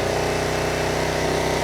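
Kawasaki KLE motorcycle engine held at a steady 4,000 RPM during a charging test, a constant close buzzing drone with an even pulsing rhythm and no talk.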